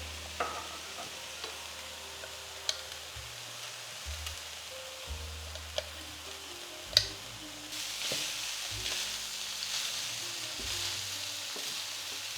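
Liver frying in butter in a pan, a soft steady sizzle with occasional clicks and scrapes of stirring, the sizzle growing louder and brighter toward the end.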